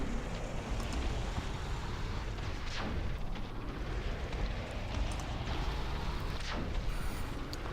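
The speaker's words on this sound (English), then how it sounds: "The cannon tower is the big brother of the machine gun tower." Cannon tower firing shells in the Defense Task Force strategy game: dense, continuous booming and rumbling explosions with scattered sharp impacts, loud and sustained with no talking.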